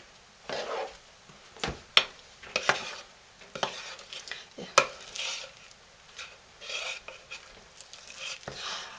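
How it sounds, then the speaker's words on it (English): Thick hot process goat milk lye soap stirred and scraped down the sides of a pot, irregular scraping strokes and a few sharp knocks of the utensil, close and fairly quiet. "Stir this some more. Clean the sides down."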